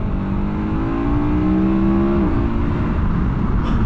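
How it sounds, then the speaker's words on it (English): A KTM 1290 Super Adventure R motorcycle in sport mode revs hard and accelerates, its engine note rising steadily then dropping briefly at a shift, loud and close throughout with no talk. "Oh yeah, the throttle's really jumpy. It's immediate in sport mode"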